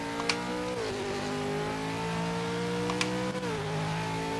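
Loud race car engine from a racing video game holding a steady high-pitched drone, with brief downshift dips and a short rev change near the end, constant throughout with no talk.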